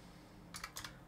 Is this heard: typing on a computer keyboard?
yes